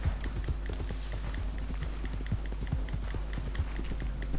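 Horse hooves from Red Dead Redemption 2 clip-clop in a quick, steady rhythm, clear and close over a low continuous rumble, with no talk.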